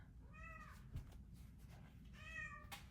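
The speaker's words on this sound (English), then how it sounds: "Somebody's downstairs meowing." A cat meows twice from downstairs, two drawn-out faint cries about two seconds apart, distant and muffled in a quiet room with no talk.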